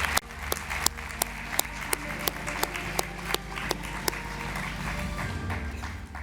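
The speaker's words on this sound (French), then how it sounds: "sous vos applaudissements." Modest applause greets a fire captain stepping onto a stage at a New Year's greetings ceremony, with a few sharp distinct claps over low background rumble, fairly quiet and sparse rather than a full ovation.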